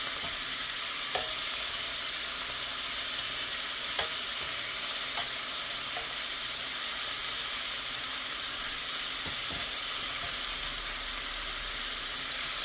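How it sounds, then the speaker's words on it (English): Chicken thighs browning over high heat in a hot skillet make a loud, steady sizzle that fills the whole stretch, with a few faint ticks and pops rising over the constant hiss. "I'm just gonna cook this enough to brown, golden brown on each side"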